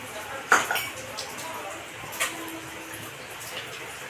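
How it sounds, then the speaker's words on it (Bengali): Metal pans and utensils clink sharply a few times around a hot wok as oil goes in, the close clatters fading into a quiet kitchen background. "কড়াই গরম হয়ে গেছে, কড়াই আমি তেল দিয়ে দেবো।"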